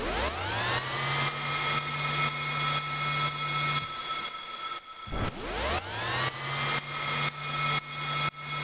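Synthesized whooshes from the Whoosh Machine plugin with the pump effect boosted, rising rushing swells pulsing in a steady rhythm, broken by one brief dip before the pumping resumes.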